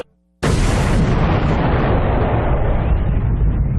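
A sudden, massive explosion erupts after a moment of silence, a loud, sustained roaring blast that rumbles on and slowly thins out, used to depict the Big Bang.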